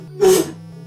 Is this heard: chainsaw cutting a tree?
no